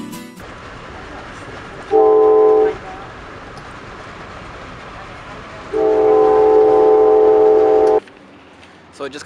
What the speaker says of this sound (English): So I just got off the train.